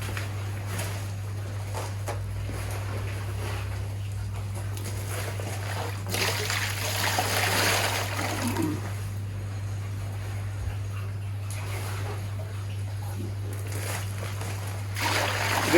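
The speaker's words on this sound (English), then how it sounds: "So basically I fill up the water here." Water pouring and splashing steadily into a koi pond fitted with a polycarbonate sheet cover, a continuous wash with a steady low hum from nearby equipment, swelling louder in the middle and near the end.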